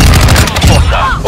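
Rapid bursts of gunfire in a battle royale shooter game, dense and loud across the whole moment, with brief booming hits and some overlapping game voice chatter.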